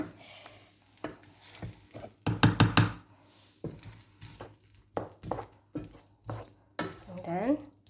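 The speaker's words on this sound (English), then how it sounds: "I'm just trying to mix everything to get into the sauce." Gnocchi being stirred through sauce in a pan, with scraping, clattering utensil strokes and a brief burst of quick scrapes, heard up close with talk around and between them.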